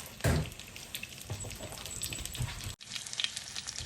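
Breaded chicken Milanese cutlets fry in a pan with a steady, close sizzle and crackle. A brief dip in the sound comes near the end, and there is no talking.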